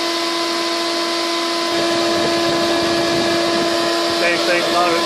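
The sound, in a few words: Shop Vac and floor fan running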